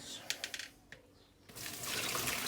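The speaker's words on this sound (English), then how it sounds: "We need to put that through the colander." Cooked spaghetti poured off the boil through a colander: a few short clattering knocks, then a steady rushing pour of water that builds and fills the rest, close and moderately loud.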